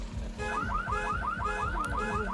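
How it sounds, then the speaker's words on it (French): A car alarm blares as a sound effect in a Walking Dead tabletop role-play, a loud, steady repeating warble of rising electronic tones that cycles rapidly without pause. "Vous entendez une alarme sonner."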